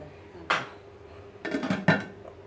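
A biryani pot being closed with its lid, giving a sharp metallic clank followed by a couple of louder clattering knocks of metal on metal, close up and with no talk.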